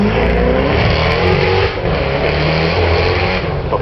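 Mercedes CLS 63 AMG accelerating hard up the Goodwood hill climb, a loud close engine roar with rising revs and a brief gear-change dip, no talking.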